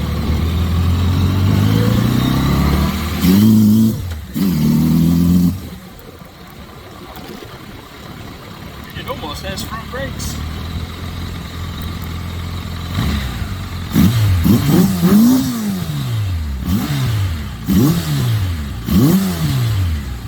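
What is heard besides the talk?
1992 Kawasaki Voyager motorcycle accelerating down the road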